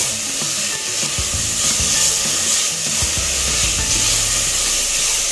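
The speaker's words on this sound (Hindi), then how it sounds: "अभी हम इसको थोड़ा सा चला देते हैं" Onion, garlic and ginger sauté in a pan for a broccoli-almond soup, a steady sizzle broken by scraping and clattering as a spoon stirs them, with no talking.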